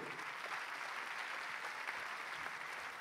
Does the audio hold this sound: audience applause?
yes